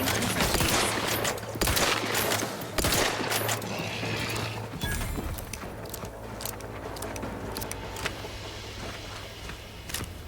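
Weapon fire in The Outer Worlds 2 comes as sharp, loud rapid bursts in the first few seconds, then scattered single shots and clicks over a humming background for the rest of the stretch.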